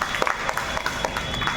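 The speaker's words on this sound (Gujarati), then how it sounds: "એક વખત આપણે આ બાળકને જોરદાર તાળીઓથી ધન્યવાદ." A group in a classroom-style gathering breaks into scattered applause to thank a child. Uneven, moderately loud claps rise from a room murmur, with voices talking through it.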